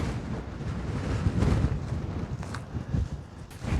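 Wind rumbles and buffets against the microphone in uneven gusts on a disc golf course, a low roaring rush that swells and dips with no voices.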